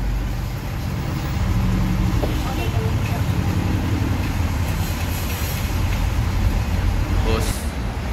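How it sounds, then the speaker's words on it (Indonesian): A Ramayana intercity bus pulling away from the ticket office, its engine a steady low rumble with road and body noise throughout, a brief higher hiss near the end, and voices murmuring faintly under it. "Bus segera diberangkatkan."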